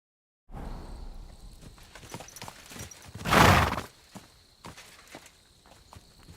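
Horse hooves clip-clop in Kingdom Come: Deliverance II, uneven walking steps with a loud whinny or snort in the middle, then more scattered hoof falls.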